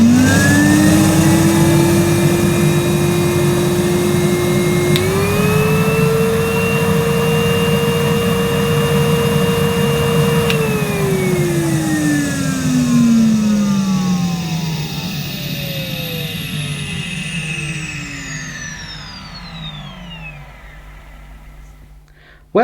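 Numatic Henry vacuum cleaner from 2006 running steadily on low power, then stepping up to a higher, louder whine on high power before spinning down toward the end, with no talking over it.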